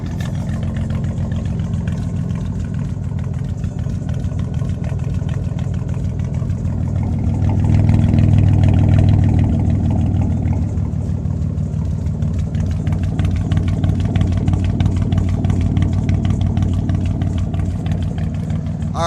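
A 2000 Dakota Sport 4x4 with a twin-cat exhaust idles close by, a steady, loud low rumble that holds even throughout and swells slightly for a moment midway.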